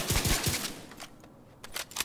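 Gunfire in the video game The Division 2 opens with a rapid burst of three sharp shots, falls briefly quiet, then resumes with a few more scattered reports, loud and close without talk.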